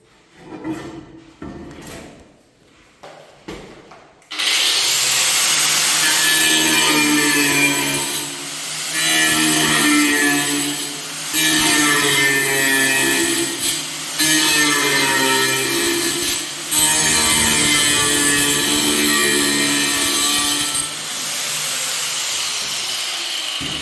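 Ceramic wall tile being cut with a power tool, a loud continuous grinding whine that runs for about twenty seconds with brief dips in pitch and load, preceded by a few short knocks and handling sounds.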